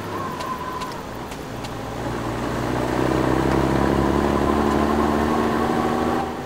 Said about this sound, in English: Can you hear that? Trucks? Over there. A crack convoy.